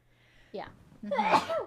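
A single sneeze bursts out sharply near the end, loud and close, following a short earlier throat sound, with brief murmured talk around it.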